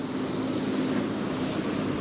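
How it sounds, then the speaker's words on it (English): A water taxi speeds away across Rotterdam harbour, a steady rushing wash of engine and water noise mixed with wind, constant and fairly loud with no talk. "Just got a water taxi speeding off."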